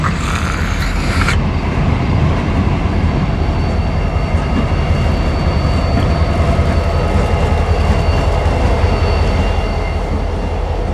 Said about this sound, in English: a BNSF Jeep numbered as 3194, which is kind of cool